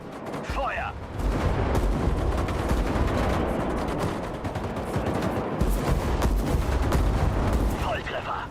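Continuous battlefield gunfire and rumbling explosions in the Sudden Strike 5 war strategy game, dense and sustained with brief voice snippets at the start and end.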